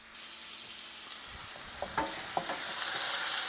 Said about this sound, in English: Last few bits of meat just browning off.